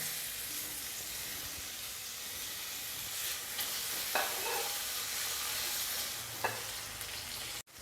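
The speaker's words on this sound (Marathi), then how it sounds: "आता आपण त्याच्यामध्ये ही एक मी मिरची घेतलेली हिरवी ती टाकते आणि हा टॅमॅटो टाकून टॅमॅटो ही छान मऊ होईपर्यंत शिजवून घेऊया" Onion, green chili and tomato sautéing in a pan, a steady soft sizzle and hiss throughout with a couple of brief scrapes or stirs, no voices.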